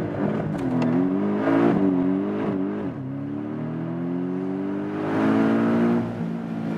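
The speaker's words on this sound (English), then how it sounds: "So, Sport Plus, hammering the brakes, hammering the throttle, the launch control was activated." A Porsche 718 GTS launches hard in Sport Plus with launch control, its engine note climbing steadily through the gears, loud and close from inside the car with a brief lift and shift midway.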